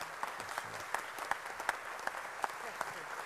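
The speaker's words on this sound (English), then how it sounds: "let us greet and welcome them with our applause" A church assembly congregation applauds newly inducted officers, soft, distant clapping with a few sharper individual claps standing out near the listener.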